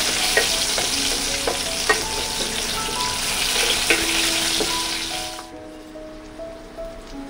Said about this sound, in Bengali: আর দিয়ে দেব শুকনো লঙ্কা। ভালো করে ভাজবো।